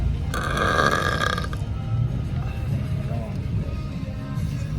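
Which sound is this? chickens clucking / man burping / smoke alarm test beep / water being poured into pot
man burping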